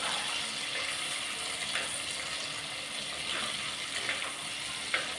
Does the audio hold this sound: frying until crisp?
yes